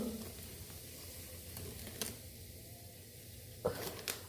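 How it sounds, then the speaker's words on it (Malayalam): Coriander powder goes into a hot pan while a ginger curry is cooked in a village kitchen, giving a soft, steady sizzle with a few faint clinks. The sound is quiet and close. "ഇപ്പോൾ നമുക്ക് കുറച്ച് മല്ലിപ്പൊടി ഇട്ട് കൊടുക്കാം"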